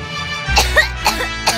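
A few short coughs sound in a cough medicine advert, close and fairly loud, spaced over a second and a half against a faint background.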